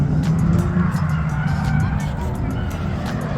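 A burnt orange Toyota JZX drift car drives nearby with a loud, rough engine roar and tire noise throughout, while a voice talks over it.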